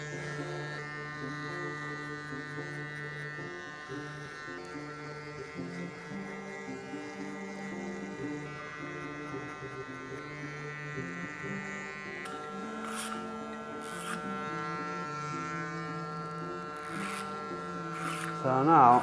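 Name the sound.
electric hair clippers cutting hair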